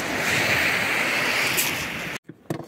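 Cold sea surf of the Sea of Okhotsk rushes in a loud, steady wash for about two seconds, then breaks off into near-silence with a few brief splashes and wind buffets on the microphone.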